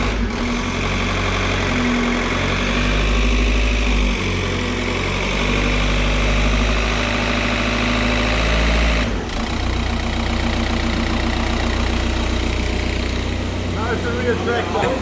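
A VW Golf TDI diesel engine idles steadily with a deep rumbling throb, loud and close, with a brief dip midway before the chugging continues and people talk over it.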